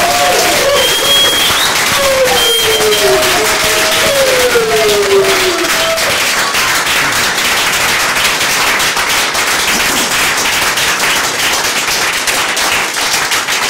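A church congregation at a Sunday worship service claps and cheers loudly and continuously, a dense steady roar of applause with voices rising through it and brief sung or shouted tones early on.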